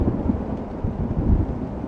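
Thunder rolls with rain pouring in a thunderstorm in the trucking game American Truck Simulator, a dense low rumble that swells and fades with no talking.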